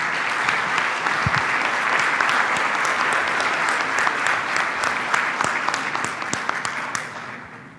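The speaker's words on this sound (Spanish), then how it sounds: "a quien agradecemos nuevamente con un fuerte aplauso su intervención" An audience at a labor-market analysis presentation claps for the speaker, a full sustained round of applause that holds steady and then thins out and fades toward the end.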